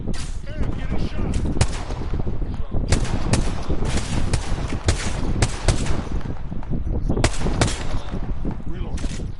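Rapid gunfire fills a shooter video game match, with dense bursts of shots and sharp cracks crowding one another throughout, loud and continuous, with a voice speaking over the action.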